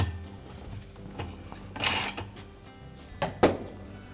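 A 7/16 bolt is tightened through the center of a Whirlpool washer agitator, giving soft clicking and ratcheting mechanical noises with a couple of sharper rattling bursts, close by and fairly quiet.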